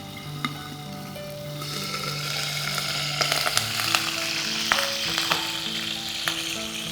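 Chicken kebab frying in a pan, a continuous close sizzle that grows louder midway, with occasional clinks and scrapes of a utensil and a faint background hum, no talking.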